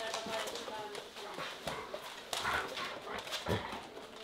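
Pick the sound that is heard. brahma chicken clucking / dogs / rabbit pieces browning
dogs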